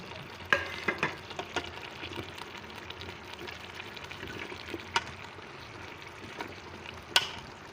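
Mutton fries in a pressure cooker as pieces of arvi (taro root) drop in and get stirred, with scattered clinks and thumps over a low, continuous sizzle. The sound is close and moderately quiet, with no talking.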